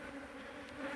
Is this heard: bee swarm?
yes